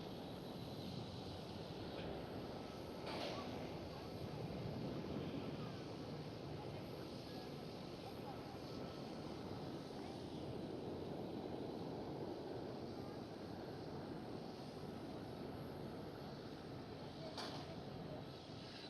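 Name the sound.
airliner taxiing out at Schiphol Airport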